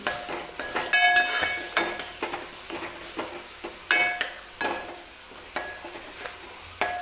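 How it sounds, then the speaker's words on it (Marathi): Ground masala paste roasts in hot oil in a pan for a toor dal chakolya dish, a soft sizzle under repeated scraping stirs and metal clinks of a spatula, close and fairly quiet. "तर 1-2 मिनिटं हे वाटण मी तेलामध्ये टाकल्यानंतर भाजून घेते बघा व्यवस्थित"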